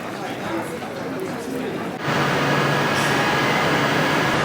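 Station ambience on platform 3 at London Euston as a passenger boards a train bound for Worcester, with a steady loud rumble and hum that jumps up abruptly midway, a faint tonal whine over it, and speech-like murmur throughout.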